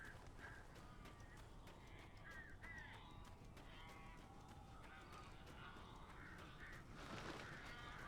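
Crows caw repeatedly in the dark, eerie Alan Wake game world, harsh calls scattered across a steady rumbling ambient bed, moderately loud and fairly close.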